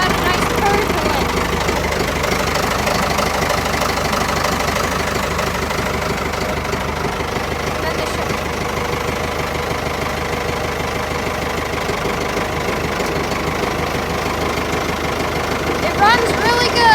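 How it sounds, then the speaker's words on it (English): A big Ford tractor engine idles steadily and loudly nearby, with an even low chugging rhythm that holds from start to finish and a brief rise near the end. "So now what I'm going to be doing is I'm going to start this big Ford beast of a tractor."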